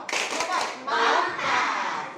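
Children in a classroom play the tepuk katak clapping game, their hands beating out fast, fairly close claps in short bursts, with young voices chattering alongside.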